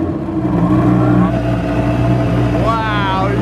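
The 1300-horsepower twin-turbo engine of a crashed Audi R8 with a six-speed gearbox cranks and rumbles loudly, a steady low droning roar with a rising whine near the end, close by.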